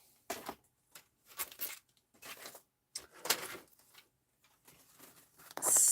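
A stamped collage paper sheet being cut, heard as several separate crisp rustling snips and paper crinkles in irregular bursts with quiet gaps between, close and without talk.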